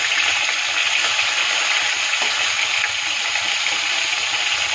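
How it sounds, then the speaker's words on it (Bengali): Rohu fish pieces fry in hot oil, giving a loud, steady, even sizzle that holds without break throughout. "এইভাবে এপিট ওপিট করে খুব ভালো করে মাছটা ভেজে নেওয়ার পর"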